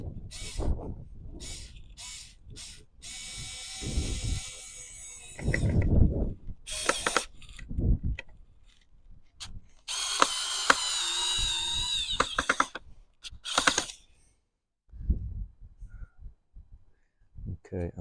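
A Werktough S025 4V cordless screwdriver, running at one fixed speed, drives a screw in short separate bursts of whirring and ratcheting, broken by quiet gaps and soft handling noises.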